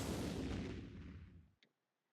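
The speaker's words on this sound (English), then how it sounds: "A thunderous explosion echoes in the distance" A distant explosion in the video game Code Realize: a broad rumbling boom that rolls out and fades over about a second and a half before cutting to silence, with a brief faint tick at the end.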